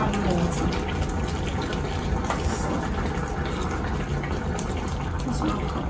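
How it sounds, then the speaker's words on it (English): Water pours steadily into a pot of egusi melon soup, a continuous splashing gush that stays loud and even from start to finish with no voice over it. "So, just 1 cup of water I'm adding to it."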